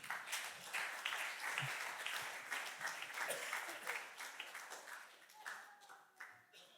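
A church congregation at a Sukkot celebration service claps and applauds to acclaim Jesus, a sustained, dense wash of clapping that swells and then gradually tapers off, with some voices mixed in.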